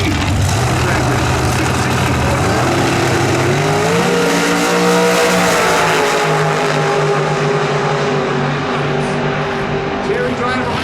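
Drag race cars launch and accelerate at the NHRA Sonoma Nationals sportsman eliminations, a loud sustained engine roar with rising pitch sweeps, an announcer's voice running over it throughout.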